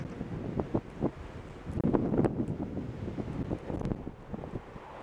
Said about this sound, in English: Woo, she's windy.